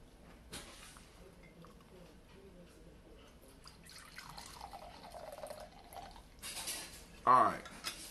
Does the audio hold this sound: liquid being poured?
yes